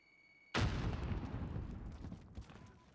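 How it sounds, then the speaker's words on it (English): Grenade blast in Call of Duty, a sudden loud boom followed by a rumbling, crackling decay lasting a couple of seconds, with a smaller crack near the end. "Grenade out!"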